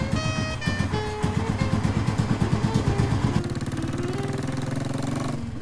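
A Bullet 500 motorcycle engine fires up from a kick cold start and settles into a loud, close, rapid thumping idle, the beat steadying and quickening partway through.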